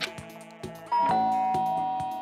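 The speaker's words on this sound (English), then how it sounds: "Ding dong!" Doorbell chime in the game Danganronpa, a bright two-tone ding-dong that rings out clearly and lingers in a long fading tone over a soft musical background.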